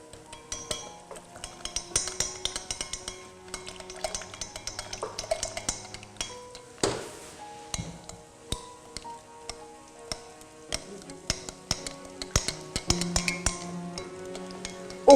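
Spoon clinking and scraping in a pot while risotto with broth is stirred, irregular close taps and knocks against the metal, fairly quiet with no voices.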